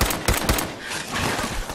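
Dense, loud enemy gunfire in Fallout 4, rapid rounds cracking in a continuous rattling volley with sharp repeated peaks throughout.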